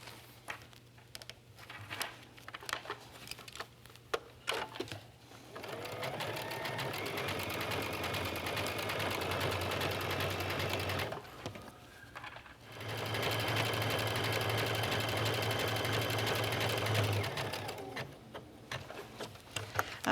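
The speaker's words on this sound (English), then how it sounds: "it's just so quick and simple to use the overcasting stitch on my machine" Sewing machine running an overcasting stitch around the edge of a fabric lantern purse, a steady fast mechanical chatter in two long bursts with a brief stop between, near and alone, with soft handling noise at the start and end.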